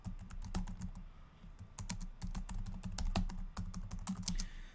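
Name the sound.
typing user ID and password on a computer keyboard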